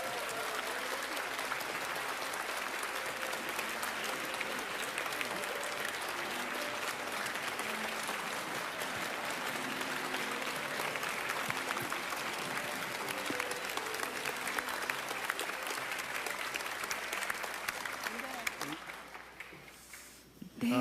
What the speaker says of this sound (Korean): 여러분 큰 박수로 앞으로 모시겠습니다.